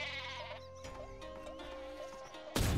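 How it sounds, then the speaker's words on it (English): A sheep weapon bleats repeatedly in Worms: Clan Wars, short wavering bleats over a steady game music bed, ending in a sudden loud burst. "I just didn't expect the sheep to decide to take a big jump off that cliff"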